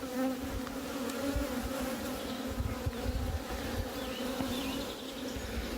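Honeybees drone in a dense, steady hum inside a hive, many wings buzzing at once up close, with no voices over the continuous swarm.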